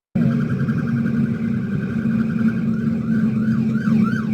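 A loud, steady siren wails close by, its pitch starting to sweep up and down in repeated cycles toward the end.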